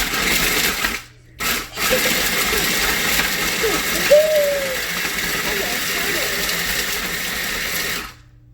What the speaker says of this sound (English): I am going to grind the bacon.